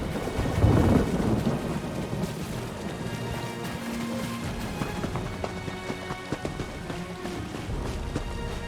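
Steady rain patters throughout in Elder Scrolls Online, with a low rumble of thunder early on and faint footsteps beneath.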